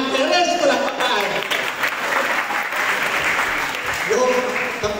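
Steady applause for a town mayor at a municipal gathering, a dense crowd clapping continuously for about five seconds, with voices and background sound mixed in.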